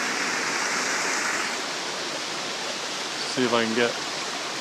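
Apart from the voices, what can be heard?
waterfall on a farm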